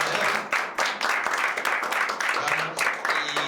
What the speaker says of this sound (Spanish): dar un gran aplauso a Pérez Agüero y a Pelusa Suero